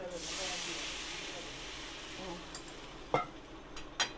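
Water poured into frying masala for a fish curry of katla fish hisses loudly at first, then the sizzle settles to a soft simmer with a few sharp clinks of a utensil against the pan.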